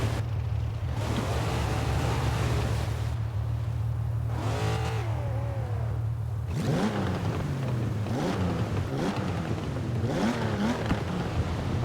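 An old 1960s car in GTA IV idles with a deep, steady low rumble from its engine and exhaust, rising in several revving surges and gear changes, close and continuous throughout.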